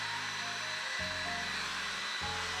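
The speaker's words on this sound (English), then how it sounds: "After coating this whole fish in an oil wash, I left it to dry with a hairdryer." A hair dryer blows with a steady, airy roar, drying an oil wash on a painted miniature fish, close and continuous under soft background music.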